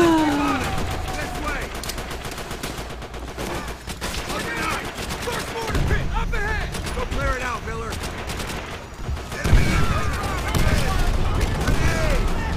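Gunfire and explosive bursts from grenades in Call of Duty: World at War, a trench-warfare battle, with dense rattling shots and heavy booms throughout, one sharp blast near the end, under someone talking.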